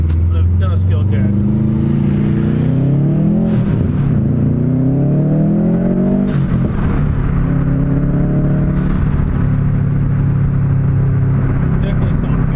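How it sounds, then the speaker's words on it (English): A 2007 Subaru STI with a front-mount intercooler accelerating, its engine rumble climbing and falling through revs with turbo spool and brief blow-off bursts, loud and close throughout, cabin noise constant. "it sounds like I can hear the turbo spool a little bit better"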